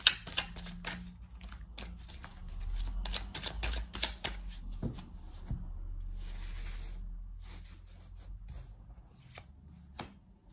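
Oracle of the Radiant Sun cards drawn and shuffled by hand, a run of quick papery flicks, slaps and rustles up close, with a steadier rubbing shuffle in the middle and no voices.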